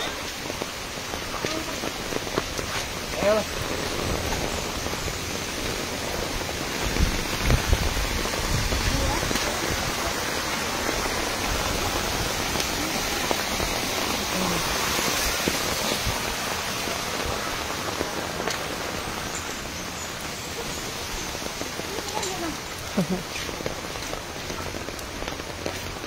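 Typhoon rain falls steadily and loudly on surfaces nearby, a dense continuous hiss with scattered heavier drips, while faint voices come and go beneath it.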